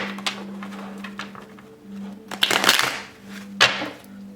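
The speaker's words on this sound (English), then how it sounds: "Let me shuffle one more time." Tarot cards being shuffled by hand, with a few soft riffling bursts and light flutters over a steady low hum, close and fairly quiet, with no talking.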